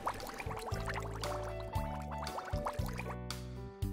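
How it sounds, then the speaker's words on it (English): Steamed milk pours steadily into a cup with a gurgling, rising fill and some light clinks, close and continuous, with no talking. "Pour the steamed milk into your cup all the way to the top."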